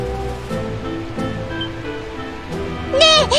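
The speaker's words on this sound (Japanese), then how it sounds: "この滝ってなんて名前なのかしら。こんなにたくさんの水、どこ こから流れてきているの？" A waterfall rushes steadily in the Trails in the Sky SC video game, a continuous broad wash of water under sustained musical tones, with a brighter chime-like flourish near the end.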